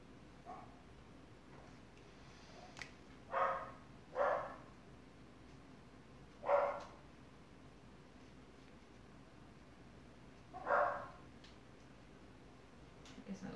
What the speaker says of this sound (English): We're watching my mom's dogs. And they're barking.